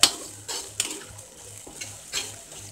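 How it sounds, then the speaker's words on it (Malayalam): A spoon stirs a thickening cornflour gravy for gobi manchurian in a pan, giving several soft scraping sweeps with light sizzling between them, close and fairly quiet. "നമുക്കൊന്ന് ഒരു കുറച്ച് നേരം കൂടെ ഒന്ന് മിക്സ് ചെയ്തെടുക്കാം."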